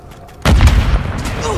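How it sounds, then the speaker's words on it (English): A heavy airstrike explosion in the Call of Duty video game erupts suddenly and loudly, followed by sustained rumbling blast noise and distant crackling. "Friendly precision airstrike inbound."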